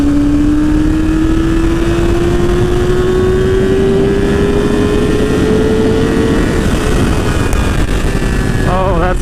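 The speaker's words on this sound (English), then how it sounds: "we're gonna take the bike out and do a little ride" A 2017 Yamaha R6 sport motorcycle hums steadily while riding, its tone slowly rising with constant wind noise, and the engine note shifts near the end.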